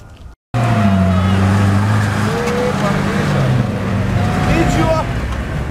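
Race cars plough through a water-filled pit during an off-road race, their engines droning loud and steady with rising and falling whines, after a brief gap of silence near the start; voices talk over the noise.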